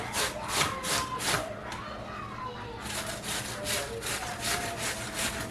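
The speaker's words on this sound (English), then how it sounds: "Grate the whole cucumber." Cucumber grated by hand on a kitchen grater for tzatziki sauce: repeated rhythmic rasping strokes, close and fairly loud, with a short pause partway through.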